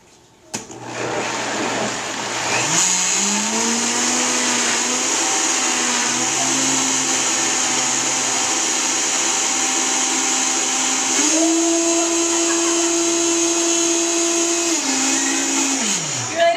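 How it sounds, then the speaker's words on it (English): A blender making a smoothie whirs loudly and steadily on high speed, its motor pitch rising as it speeds up, with a higher surge near the end before easing back. "I'm going to whirl our blender."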